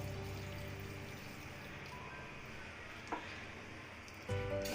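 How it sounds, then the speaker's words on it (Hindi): A glass of water is poured onto sugar to make syrup, a faint, steady trickling pour lasting a few seconds, quiet and close, ending with a soft clunk. "और इसमें हम शामिल करेंगे 1 गिलास पानी शीरा बनाने के लिए।"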